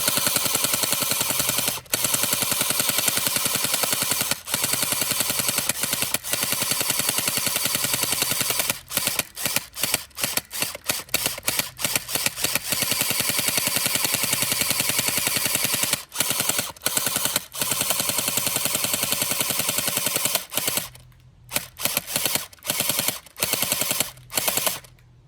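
Ferventoys M416 gel blaster firing gel balls outdoors, rattling off loud bursts of rapid automatic fire with brief gaps, finishing with a few scattered short bursts as the magazine runs dry.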